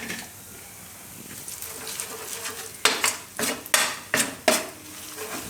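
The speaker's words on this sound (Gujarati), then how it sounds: "તો લોટ આપણે આ રીતે શેકી લીધો છે" Gram flour roasting in a pan as it is stirred, with a soft background sizzle and several sharp scrapes and clinks of a utensil against the pan in the second half.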